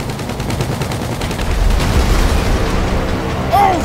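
Gunfire rings out in a chaotic street confrontation, dense rumbling bursts of shots filling the scene loudly and continuously, with a brief voice-like shout near the end.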